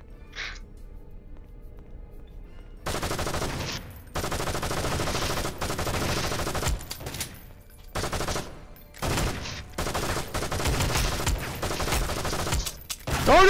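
Rapid magnum gunfire rings out in GoldenEye: Source, repeated bursts of loud close shots separated by short pauses, with a faint voice near the start and a sharp click at the end.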